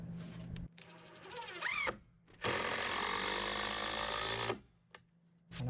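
A cordless power drill drives screws into a wooden raised garden bed, whirring in two bursts, a short one and then a longer sustained run, with brief clicks and pauses between.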